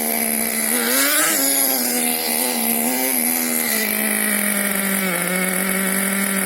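A Team Associated Mini MGT 3.0 RC truck's small motor runs continuously near the listener while braked but still trying to go, its loud buzzing whine wavering up and down in pitch throughout.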